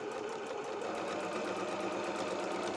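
A sewing machine runs a short burst of reverse stitches along cushion piping made from curtain fabric, giving a steady, fast mechanical whir that holds at one level for the whole stretch, close by with no talk.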